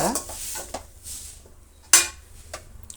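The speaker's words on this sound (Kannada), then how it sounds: "ಹುಣಸೆ ಹುಳಿ ಹಾಕಿ ಚೆನ್ನಾಗಿ ಮಿಕ್ಸ್ ಮಾಡ್ತಾ ಇರಬೇಕು" A metal spoon stirs bitter gourd masala with tamarind in a pan, giving a few scattered clinks and scrapes against the pan over a quiet background, with one sharper knock standing out.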